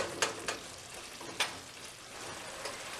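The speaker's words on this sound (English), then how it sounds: "We're going to stir that in." Drained diced tomatoes are stirred into ground beef simmering in a pan, giving a low sizzle broken by a few sharp clicks and scrapes of the spoon against the pan, close and fairly quiet.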